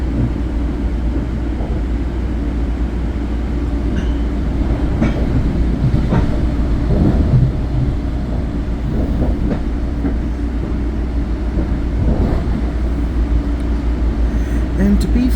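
Passenger train running through past stations, a steady close rumble and rattle of wheels on track with scattered clicks and clatters throughout, loud and continuous.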